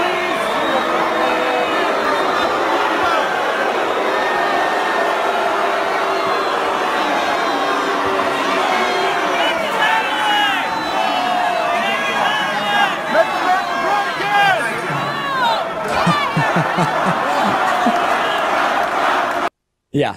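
Crowd noise at a Make America Great Again political rally, heard as a played-back recording: overlapping shouts, chatter and cheering from many people with loud voices over the top, cutting off abruptly at the end.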